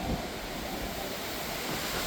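Hurricane wind roaring outdoors in a broad, steady rush with low buffeting rumbles against the microphone, heard alone and moderately loud for a brief moment.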